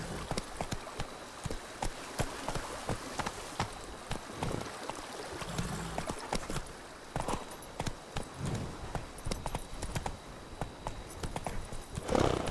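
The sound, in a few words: horse hooves trotting in The Witcher 3 video game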